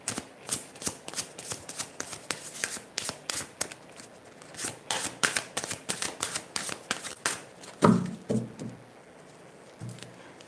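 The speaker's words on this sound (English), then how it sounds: "Let's do a final shuffle" A deck of tarot cards is shuffled up close in repeated crisp riffles and rapid flicking patters, with short pauses between bursts and a louder slap near the end.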